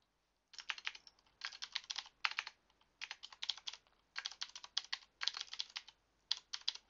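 Someone types on a computer keyboard in quick irregular bursts of crisp clicks, separated by short pauses, close and clear in an otherwise quiet room.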